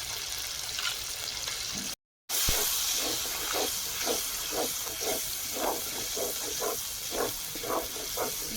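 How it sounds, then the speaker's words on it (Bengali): Melon seed, poppy seed and cashew paste mixed with red chilli powder hits a hot pan of oil for cauliflower roast, giving a loud, steady steamy hiss with bursts of crackling sizzle after a brief cut. "চালমগজ পোস্ত আর কাজু বাটা আর তার সঙ্গে রেড চিলি পাউডার মিশিয়েছি পুরোটা দিয়ে দিচ্ছি"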